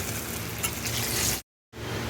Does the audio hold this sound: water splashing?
no